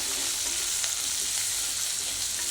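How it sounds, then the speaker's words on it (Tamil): Chopped onions with green and red chillies fry in a hot pan for sambar tempering, a steady close sizzle with no talking. "வெங்காயம், பச்சை மிளகாய், வரமிளகாய் இது போட்டு தாளிச்சிடும்."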